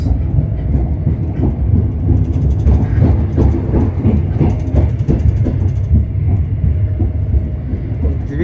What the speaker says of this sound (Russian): Скорость поезда примерно 200 км в час.